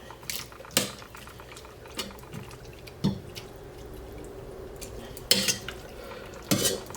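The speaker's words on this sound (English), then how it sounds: "Make sure we've got some simmering going on there, because the octopus is cold" An octopus simmers in liquid in a cooking pot, with faint bubbling beneath scattered sharp clinks and knocks of a utensil against the pot.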